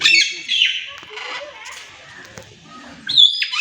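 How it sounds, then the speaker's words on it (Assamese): A yellow bird calls in short, bright, shrill bursts at the start and again near the end, with faint voices and other noises in between. "সেই চৰাইটো চোন"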